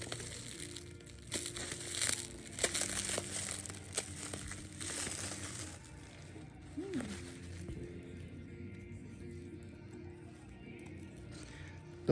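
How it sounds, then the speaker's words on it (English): A hat with a glued leather patch being unwrapped, crinkling and crumpling wrapping close by in bursts that fade into quieter rustling, with a brief voice. "So I'm just gonna unwrap it real quick, see how it came out"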